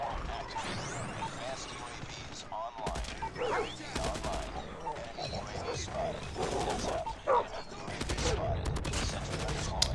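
Rapid bursts of Hades LMG gunfire in Call of Duty Mobile, quick sharp volleys repeating through the stretch, with someone talking over the shooting and game effects.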